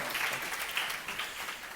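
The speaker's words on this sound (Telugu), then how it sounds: "గట్టిగా చప్పట్లు కొట్టండి" Congregation at a Sunday church service clapping together, a steady broad wash of hands filling the room at moderate level with no talk over it.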